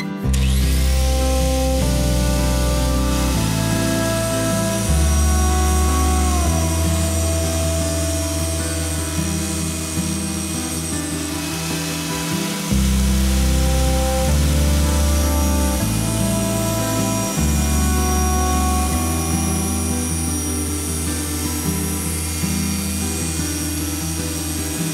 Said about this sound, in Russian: Сейчас я включу болгарку и пройду с каждой стороны по нескольку раз.